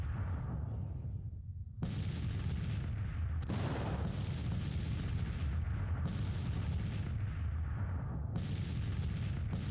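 Civil War artillery batteries bombard enemy lines in the strategy game Grand Tactician: The Civil War, with a few heavy booming volleys breaking over a constant rumbling din of battle.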